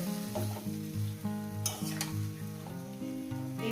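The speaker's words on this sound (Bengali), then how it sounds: "এইভাবে কষিয়ে নিতে হবে বিটিলিটাকে মশলার সঙ্গে" Malabar spinach fruits sizzle steadily as they are sautéed with spices in a pan over a low gas flame, a soft continuous frying hiss under a layer of tonal, music-like sound.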